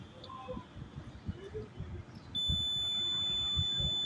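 Digital multimeter in continuity mode testing a mobile phone's power IC circuit, a faint steady high-pitched tone that starts partway through and holds continuously over soft background noise.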